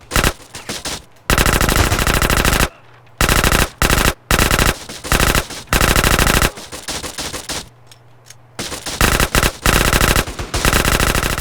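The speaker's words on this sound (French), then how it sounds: "je vais peut-être prendre une mitraillette pour m'occuper de ça" Loud bursts of automatic machine gun fire in GTA San Andreas come in rapid rattling volleys, with short gaps between them and a faint hum in the pauses.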